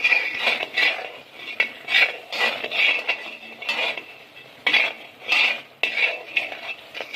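A spoon works coconut masala with whole spices and coriander around a pan while making shev bhaji, giving close, repeated scraping and clinking strokes in an uneven rhythm, with no one talking.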